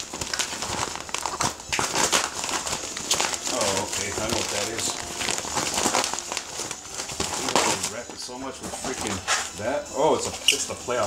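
Plastic wrapping on a 2017 Playoff Premium retail trading card box crinkles and tears close by in a long, busy run of crackling as someone talks over it.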